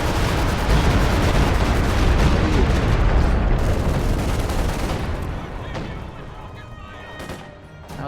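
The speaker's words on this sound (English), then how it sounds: "Stuka firing, possibly in this zone" A Stuka artillery barrage in a video game pounds out dense, continuous rumbling explosions and gunfire, loud and sustained before tapering slightly toward the end.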